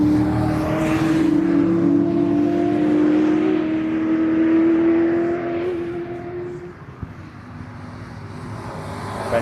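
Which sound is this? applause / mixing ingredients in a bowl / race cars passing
race cars passing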